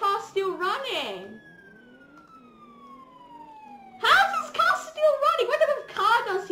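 A police car siren in the Roblox game ER:LC wails in a single falling sweep, mid-loud, between stretches of talk from a player.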